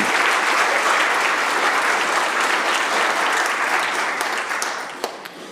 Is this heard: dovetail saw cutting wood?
no